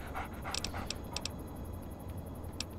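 Dogmeat, the dog in Fallout 3, panting in quick soft breaths close by, with a few sharp ticking clicks over a low background hum.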